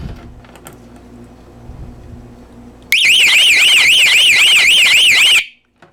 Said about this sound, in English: I'll turn the sirens on for a second.